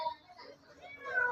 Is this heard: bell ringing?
no